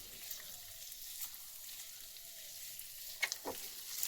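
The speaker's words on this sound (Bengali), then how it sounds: "তো আলুটা ততক্ষণ ভাজা হোক" Potatoes fry in a pan with winter vegetables for a sago fry dish, a quiet steady sizzle with a couple of sharper crackles and stirring knocks near the end, no talking.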